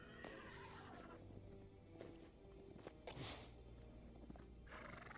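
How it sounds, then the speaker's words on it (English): A horse in the video game Hytale whinnies and neighs, with steady clip-clop hoofbeats walking underneath, fairly close and clear with no talking. "Oh, a horse."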